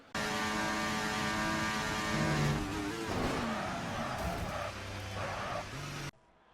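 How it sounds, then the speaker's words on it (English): Williams Formula 1 car engine in a racing video game at the Great Britain round, a loud sustained high-revving whine with gear shifts and pitch sweeps, running alone until it cuts off abruptly. "Takubi just pushing that Williams through the corners"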